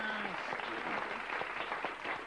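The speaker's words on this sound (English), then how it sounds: "Give him a round of applause." A studio audience gives a short, faint round of applause after a guitar-picking performance by a folk band, with voices talking over the clapping.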